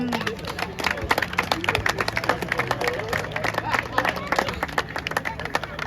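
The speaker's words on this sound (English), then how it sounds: "So we have a round of applause for the match officials as well, please." A crowd gives a round of applause for the match officials at a Sunday League amateur football cup final, with rapid, scattered claps from a modest outdoor gathering under faint background chatter.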